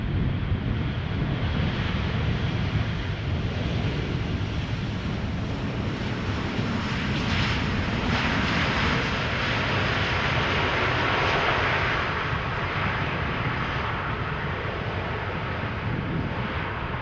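An airliner arriving on the Polderbaan runway at Amsterdam Schiphol produces a long, continuous engine roar of moderate loudness, swelling slightly mid-pass with some wind buffeting and no voices.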